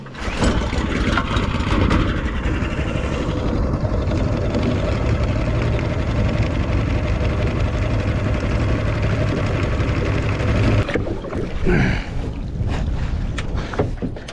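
A mud motor pushing a layout boat on a river, its engine running loud and steady with a rough low drone, then a brief change in pitch and some knocks toward the end.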